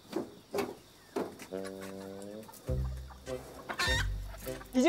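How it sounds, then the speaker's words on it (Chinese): Several farm chickens cluck and squawk among two roosters that may be fighting, with loud, sharp calls and drawn-out cries arriving in irregular bursts close by. "那两只公鸡会不会打架？"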